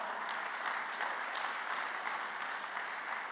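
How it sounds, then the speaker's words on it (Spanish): A church congregation claps in praise during a Spanish-language sermon, a dense, even wash of applause that holds steady throughout, somewhat distant and without talk. "Dale un aplauso al Señor"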